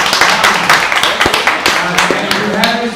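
An audience gives a round of applause at a startup pitch event in New York City: a close, loud, continuous patter of many hands clapping, with scattered sharper claps and faint voices mixed in.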